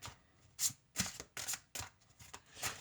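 Tarot cards are shuffled for a reading in a quick series of about seven crisp riffling bursts, close and fairly quiet, alone with no voices.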